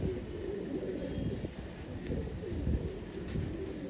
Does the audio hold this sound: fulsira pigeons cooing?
yes